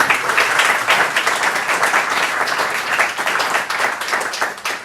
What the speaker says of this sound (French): On peut l'applaudir, ça mérite.